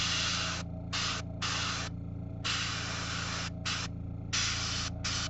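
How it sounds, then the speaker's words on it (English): Green paint is sprayed onto a miniature in short hissing bursts, about five blasts of varying length separated by brief pauses, close and clear over a faint steady hum. "And I'm just going to spray that green."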